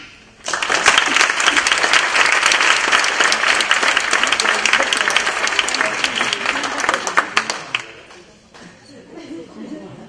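An academic conference audience breaks into loud, sustained applause for a bronze prize recipient, dense clapping starting abruptly and holding steady for about seven seconds before thinning out, with voices afterward.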